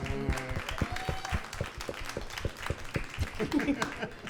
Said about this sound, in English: Can we give a round of applause for Sam?